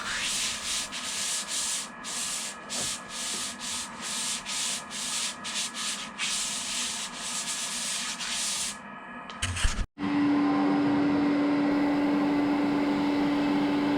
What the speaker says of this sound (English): I had a lot of difficulty sanding these rolling pins by hand